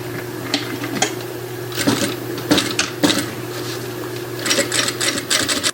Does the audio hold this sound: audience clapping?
no